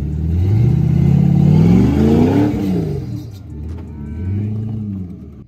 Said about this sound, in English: I've like never really heard my Jeep with the new muffler from the outside